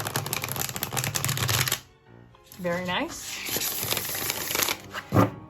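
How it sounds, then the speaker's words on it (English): A new, stiff Macabre Tarot card deck is riffle-shuffled in rapid crisp bursts, then bridged and tapped, with a brief spoken comment partway through. "let's see how it shuffles."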